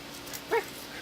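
A dog about to be bathed lets out a single short, clear whimper in the middle, set against quiet surroundings.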